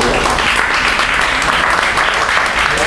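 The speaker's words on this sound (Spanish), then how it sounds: "Aplauso para ellos, por favor." Loud, continuous audience applause fills the hall at a cultural gathering, dense clapping with no pause, close and steady from start to finish.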